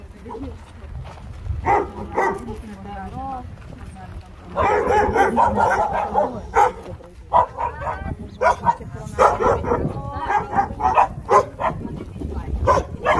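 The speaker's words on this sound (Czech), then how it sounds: "Tady pejskové." Dogs at an animal rescue in Egypt bark and yip in bursts throughout, fairly close, mixed with people talking.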